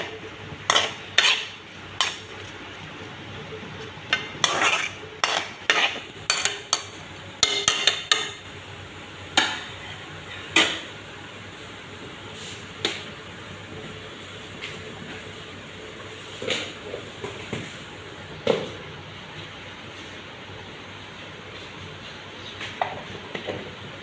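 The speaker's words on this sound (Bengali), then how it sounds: "একটু পরপর নাড়তে থাকব যাতে সবজি আর মশলা সব মিলেমিশে যায় আর ভাজাও হয়ে যায়" Vegetables and spices for a vegetarian banana-flower dish are stirred in a frying pan, with irregular sharp clinks and scrapes of a utensil against the metal over a faint, steady sizzle.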